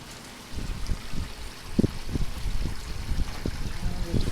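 A gold prospecting trommel with a 3/8 screen feeds a small sluice below, giving a steady wash of running, trickling water with irregular knocks and clunks from the drum, fairly close and without speech.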